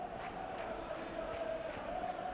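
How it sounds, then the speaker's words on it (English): A distant stadium crowd in a football video game, a steady roar of applause and murmuring with faint rhythmic claps, sustained and fairly quiet throughout. "Crowd appreciates good football all round there."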